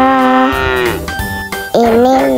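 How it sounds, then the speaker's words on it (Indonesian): A cow moos in one long, loud, drawn-out call, a brief pause, then a second moo rising again, close and clear with no talking. "Ini namanya sapi."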